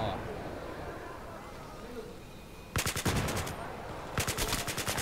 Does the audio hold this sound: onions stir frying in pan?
no